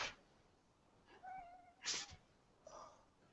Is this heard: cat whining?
yes